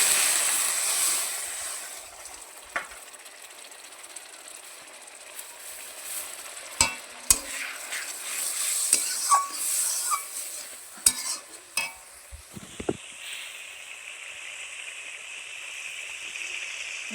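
A spice paste thinned with a splash of water sizzles in a frying pan, a bright close hiss punctuated by scattered spoon clinks and scrapes, with the bubbling turning softer and steadier near the end.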